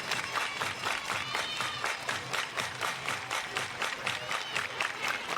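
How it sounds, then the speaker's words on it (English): Crowd applauding and cheering at a professional softball game in Carolina, steady dense clapping throughout with rhythmic stadium noise and no voices. "Everybody clap your hands."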